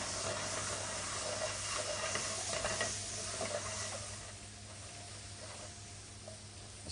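Melon balls cook in hot caramel in a pan with a steady sizzle and bubbling hiss, plus a few stirring scrapes, fading a little toward the end.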